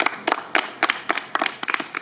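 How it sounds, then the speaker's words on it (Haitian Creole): An audience applauds a speaker with sparse, evenly spaced claps, about a dozen distinct hand claps over two seconds, fairly close and with no talking. "On applaudit l'intervention de monsieur."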